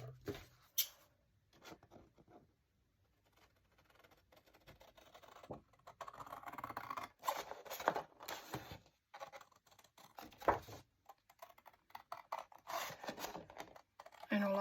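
Sheet of single-sided 12x12 paper being cut from the side up to a score mark, giving intermittent close scratchy slicing strokes separated by short quiet pauses.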